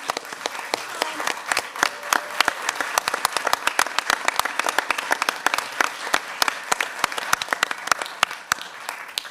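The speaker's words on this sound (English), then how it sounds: "I want to give you a round of applause." Sustained audience applause at a city council business meeting, many hands clapping in a dense, even stream for several seconds with a few louder claps standing out.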